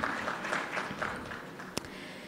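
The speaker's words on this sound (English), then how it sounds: "So can we please give Panasonic a big round of applause?" Scattered applause from a workshop audience, moderately distant and fading, with a single sharp knock near the end.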